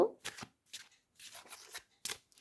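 Romance angel oracle cards are shuffled by hand close up, giving several quick, crisp riffling bursts separated by short pauses.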